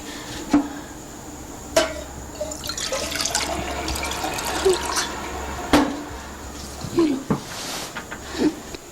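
Water poured from a container into a drinking glass inside a home, a steady trickling pour with a few clinks and splashes, fairly close and clear, with no talk over it.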